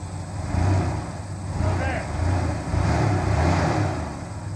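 A truck engine revs in rising and falling surges as it is eased up onto trailer ramps, fairly close and steady, with people talking over the engine noise.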